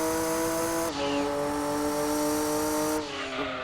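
A Jaguar XK8 spinning out in Gran Turismo 2 on PS1, its engine holding a steady loud drone with a sudden pitch drop and hissing tyre squeal as the car slides, then the tone shifting again near the end.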